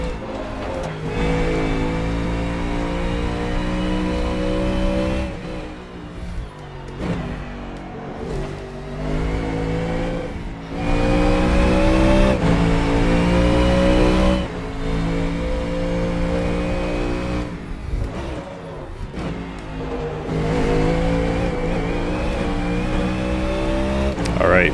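A URD Coyote GT3 race car in a racing video game, its engine droning loud and continuous through long high-revving pulls, briefly dipping between gear changes and corners before climbing again.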